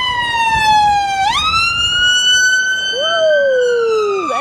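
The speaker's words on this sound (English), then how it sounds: "Here comes the ambulance." An ambulance siren on a stormy Blackpool street, loud and close, its wailing tone sweeping up and down as the vehicle passes by.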